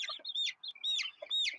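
Several chickens cluck and squawk in quick bursts, fairly close, with short pauses between calls and no talking.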